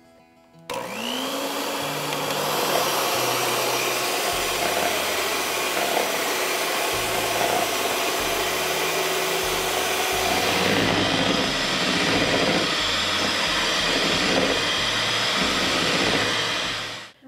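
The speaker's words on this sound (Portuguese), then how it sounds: "Agora eu vou bater a clara." Egg whites being beaten with an electric mixer for a caramelized dessert, giving a loud, steady motor whine that starts abruptly, holds for about sixteen seconds with slight shifts in pitch, then cuts off, alone without talk.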